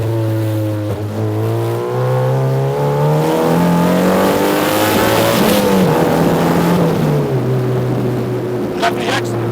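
An MEV kit car accelerates hard on an open road, engine note climbing steadily through the gears with brief dips at each shift, loud and close throughout.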